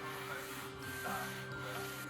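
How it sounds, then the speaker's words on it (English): Continuous scratchy rubbing of sandpaper worked back and forth by hand on a table saw part, moderately close and steady, with no voices. "Oh look, it's me doing more sanding."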